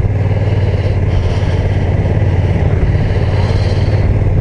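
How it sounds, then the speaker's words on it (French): Engine of a Honda NT1100 touring motorcycle with DCT automatic gearbox, a steady loud low rumble with an even pulsing idle throughout, close by and alone with no talk. "je fais l'essai de la Honda NT 1100 en boîte auto."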